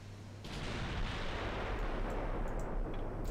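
A battleship's big guns fire a salvo in the naval strategy game Ultimate Admiral Dreadnoughts, a deep heavy boom rolling into a long sustained rumble that fills the moment, loud and close, with faint distant thuds trailing near the end.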